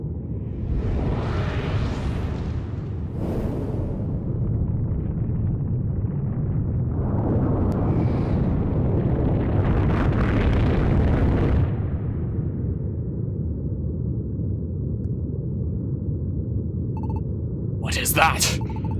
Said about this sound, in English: Those are shockwaves, and they're huge.